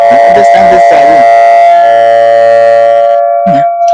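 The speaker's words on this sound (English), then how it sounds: "Let me get off that sounding siren where I am." A loud, close siren wails in a sustained tone, with someone speaking briefly over its start and again as it fades near the end.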